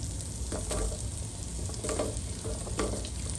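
Carrots cooking in melted unsalted butter in a pan over medium heat, a steady soft sizzle with a few scraping stirs, close and moderately loud, no talking.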